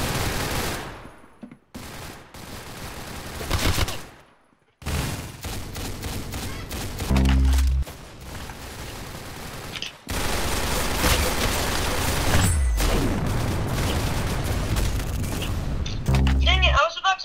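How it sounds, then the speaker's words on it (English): Rapid Tommy gun fire in a Roblox shooter game, loud bursts of automatic shots and booms in a busy, chaotic mix, with players talking over the action. "I was about to fully kill somebody with my Tommy gun"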